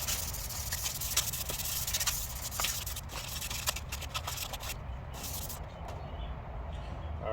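Steady abrasive rubbing of sandpaper across a car headlight lens, continuous and close, with a gritty hiss that thins out toward the end.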